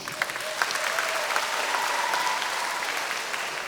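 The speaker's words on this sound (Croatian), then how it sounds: "pozdravimo ih pljeskom" A festival audience at an international children's music festival applauds to greet the jury, a steady wash of many hands clapping that holds evenly for several seconds, fairly loud, with faint crowd murmur underneath.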